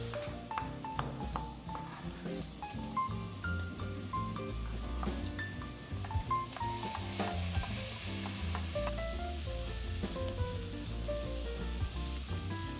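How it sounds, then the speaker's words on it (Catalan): Steady sizzling of chopped onion frying in hot oil runs beneath melodic background music, with occasional stirring noises; no voices. "En el mateix oli hi sofregim la ceba picada"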